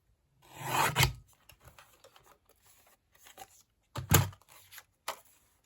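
A small paper guillotine trims the edge of a junk journal tag with two short rasping slices and a few faint scrapes and rustles between them, close and quiet, without speech.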